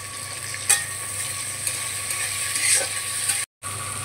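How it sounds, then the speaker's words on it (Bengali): Chopped tomato tipped into a frying pan and stirred, a close rattling, scraping stir with a soft sizzle underneath and a brief clack as the tomato lands, no voice. "এর উপর দেবো টমেটো কুচি।"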